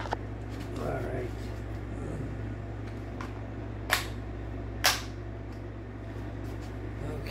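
An Umarex T4E HDR 68 paintball pistol powered by an 8-gram CO2 cartridge fires two sharp, close pops about a second apart over a steady low hum in an indoor room.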